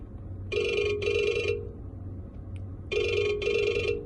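Toyota Tundra in-dash ringtone, tone 1: a bright electronic ring in two paired bursts, each a double pulse, separated by a pause, playing clearly over faint cabin hum.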